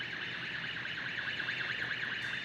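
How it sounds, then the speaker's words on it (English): A 6,000 lb Lift Hero CPD30 electric forklift sounds its startup alarm during electronic checks, a steady, fairly quiet electronic tone held continuously without a break. "That alarm will come on."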